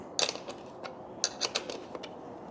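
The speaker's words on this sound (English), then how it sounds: "We're going to use our wrench to undo the bolts that are attached to the headlamp" A wrench loosening the headlamp bolts on a HOVSCO HOVGTRS e-bike gives a few quiet metallic clicks and ratcheting creaks in short irregular bursts against a faint room hush.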